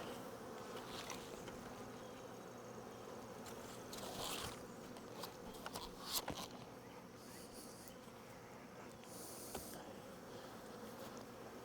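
Honeybees buzz around beehives set outdoors, a faint, continuous hum with occasional louder passes as single bees fly close to the microphone.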